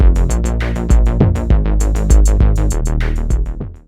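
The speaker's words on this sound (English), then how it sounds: "So I have here a drum sound with a kick." Punchy electronic drum loop with a booming kick on a steady beat and crisp hi-hats ticking above, loud and upfront, the kick pumping a sustained bass line under sidechain compression.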